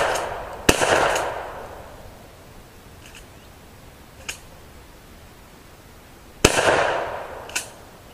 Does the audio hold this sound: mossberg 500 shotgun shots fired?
yes